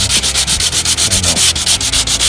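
Old paint is sanded off a garage door by hand in loud, close, rhythmic rubbing strokes, about five per second, each a harsh gritty scrape that repeats evenly without pause and with no voices.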